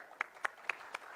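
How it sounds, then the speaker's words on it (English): Faint, sparse clapping greets a cultural dance troupe from Bodoland at a live trophy-tour event, five separate claps spaced about a quarter-second apart and heard from a distance. "give a huge round of applause for our vibrant cultural troupe"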